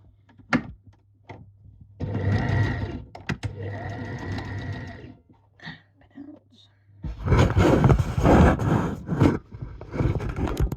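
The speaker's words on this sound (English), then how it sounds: "And we'll sew that." A sewing machine stitches trousers in bursts of close, loud mechanical whirring, a couple of short runs followed by a longer one, with a person speaking quietly between them.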